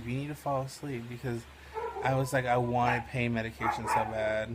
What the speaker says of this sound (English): He's probably still gonna bark.